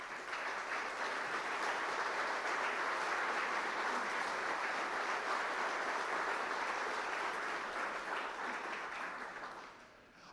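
Sustained applause from a large audience at a State of the Government address, honoring county commissioners, steady and full for about ten seconds before tapering off at the end.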